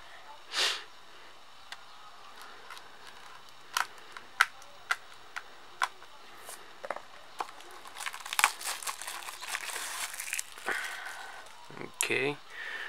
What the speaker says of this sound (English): let's get this unwrapping started